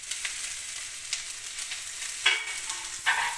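Beans, carrots and cabbage stir-fry in a pan for veg fried rice, giving a steady, bright hiss of sizzling oil. Two louder bursts come as the vegetables are tossed. It sounds close, with no talking.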